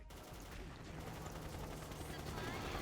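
XSHOT video game gunfire sounds as a dense, continuous burst of rapid shots with mechanical clatter, loud and steady throughout.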